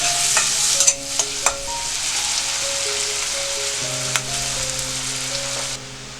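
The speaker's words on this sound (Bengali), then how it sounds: "কুচি করা পেঁয়াজটা দিয়ে দিলাম। পেঁয়াজটা যখন একটু লাল হয়ে আসবে" Chopped onion sizzles steadily in hot oil in a pan while a utensil stirs and scrapes through it, with a few sharper clinks, close and continuous with no talk, for a Bengali prawn malai curry.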